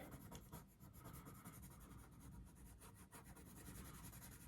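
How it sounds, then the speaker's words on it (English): A graphite pencil blends and rubs across paper during a drawing of a pumpkin patch, giving a steady, faint scratchy rubbing with quick repeated back-and-forth strokes. "And blend and blend and blend."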